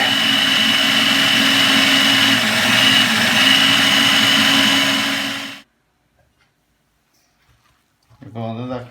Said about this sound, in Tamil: இப்போ மிக்சரில் போட்டு அடிக்கிறேன் கடலையை.